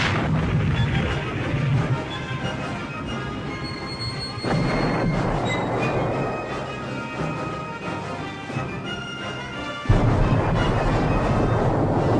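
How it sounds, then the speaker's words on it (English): Old WWII film footage of an artillery barrage striking Normandy fortifications: heavy booms follow one another over a continuous muffled rumble, with sharper blasts breaking in. "a tremendous barrage strikes Hitler's fortifications at Normandy"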